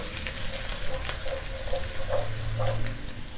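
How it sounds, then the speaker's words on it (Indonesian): Cloves, black pepper and bay leaf sautéing in oil for nasi mandhi, a soft, steady sizzle with gentle rhythmic stirring taps close by. "nah ini kita tumis sampai harum"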